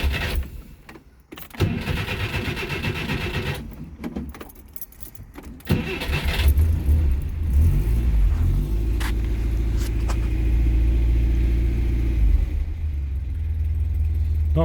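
A 1978 Skoda 120LS is started after keys rattle, and its engine settles into a steady low idle through a fabricated exhaust, fairly quiet and close, without talk.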